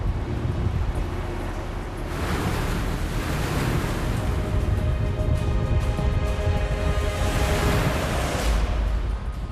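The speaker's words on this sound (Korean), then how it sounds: "거칠게 일렁이는 바다." Rough sea off Jeju heard from a fishing boat, with waves surging and crashing in swells and strong wind buffeting the microphone throughout, loud and continuous with no voices.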